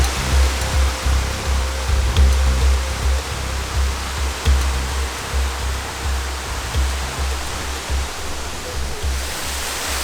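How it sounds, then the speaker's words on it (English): Kondalilla Falls, an 80-metre waterfall in the Sunshine Coast Hinterland near Maleny, pours in a continuous broad roar of rushing water that holds steady and fills the whole scene, with no talking. "And what we're looking at is about 80 meters worth of waterfalls."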